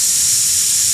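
A voice produces a sustained, sharp hissing consonant imitating the Arabic letter sin, a single steady breathy hiss lasting about a second with no other sound.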